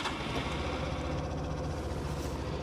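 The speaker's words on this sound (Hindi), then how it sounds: "इसमें आपको जो आइडलिंग है वो एकदम स्टार्टिंग में थोड़ी सी सुनाई देती है" A Suzuki Access scooter's small single-cylinder engine fires up on the starter button and settles into a soft, even idle. The chugging hum is steady and fairly quiet throughout.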